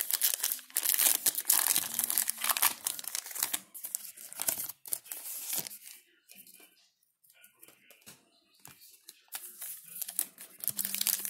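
Trading card packs from a baseball box being ripped open, with loud crinkling foil and tearing wrapper noises in bursts, a quieter stretch midway, then more crumpling; a voice is heard briefly.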